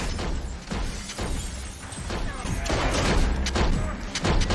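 Gunfire and crashing impacts from a Person of Interest TV episode scene, several loud bursts and thuds scattered over continuous action noise and voices.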